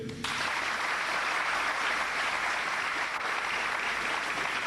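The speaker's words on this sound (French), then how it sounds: "je vous demande d'applaudir s'il vous plaît" Studio audience at a school quiz show bursting into steady, dense applause, continuous and even in loudness throughout, with no talk over it.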